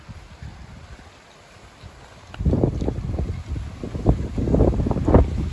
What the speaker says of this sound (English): It's always windier up here than anywhere else, even down the end of the street.